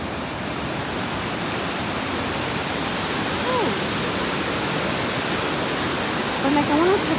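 A waterfall on a riverside trail rushes in a steady, broad roar that fills the whole span, with faint bird chirps breaking through near the end.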